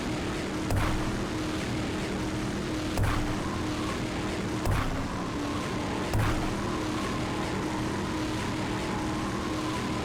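Engine of the Embraer 050 drag racer in the Brick Rigs game, a steady droning whine held at an even level, broken by four sharp clicks spread through it.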